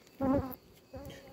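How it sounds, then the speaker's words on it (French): Honeybees buzzing at an opened hive during a spring colony inspection, two short close bursts of droning wing hum separated by a quieter gap. "Elles sont belles, les abeilles."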